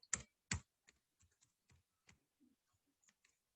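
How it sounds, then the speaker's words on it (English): Computer keys are tapped one at a time, a few close, crisp clicks followed by softer, sparser taps in a quiet room. "I'll type it in here."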